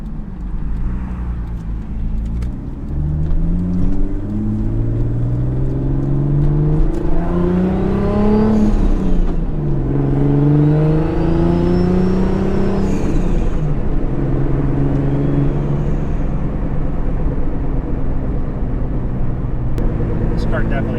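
A Toyota Supra sports car engine revs and drones loudly, its pitch rising and falling through gear changes as the car accelerates and cruises, continuous throughout.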